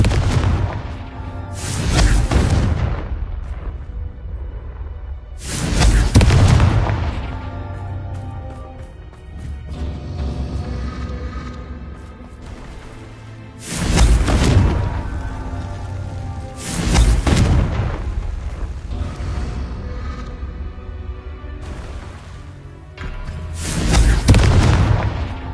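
Repeated Confringo spell explosions in Hogwarts Legacy, about six heavy booming blasts spaced a few seconds apart, each with a sharp burst and rumbling tail over a low ambient bed.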